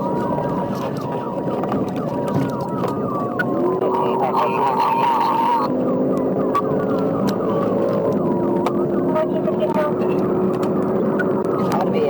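Police car sirens wail loudly and continuously during a high-speed pursuit of a silver Hyundai Sonata on a Florida highway, the rising and falling tones layered with road and engine noise.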